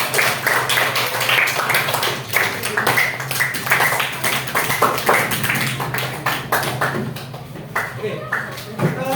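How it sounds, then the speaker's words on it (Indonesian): Primary school students clapping for a classmates' group in an Indonesian classroom, rapid uneven claps from many small hands mixed with children's chatter and voices throughout. "Kita kasih tepuk tangan dulu dong untuk kelompok kedua."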